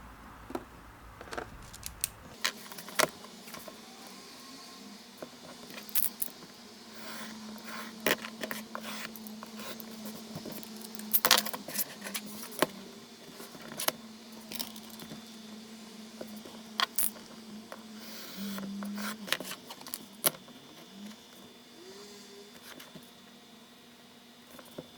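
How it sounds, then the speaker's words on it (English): Scissors snip through pattern paper for a 20 mm leather watch strap, quiet intermittent crisp cuts and light rustles spread across a calm, near-silent workspace. "So now I'm going to cut the pattern papers with 20 millimeters wide."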